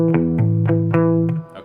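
A distorted electric guitar strums a short rhythmic figure of chords, several sustained hits with brief gaps, loud and close with no voices.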